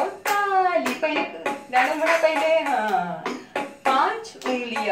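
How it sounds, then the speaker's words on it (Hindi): Children clap their hands in a rhythm and movement music therapy session, the sharp claps landing at intervals beneath a close, melodic singing voice. "बजाओ ताली"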